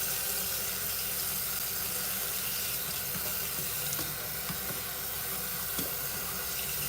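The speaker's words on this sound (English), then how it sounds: "Let me just rinse this pan down." Water pours steadily from a sink tap to rinse a dirty pan, a continuous close splashing hiss that runs unbroken, with no voices.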